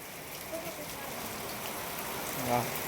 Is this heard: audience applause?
no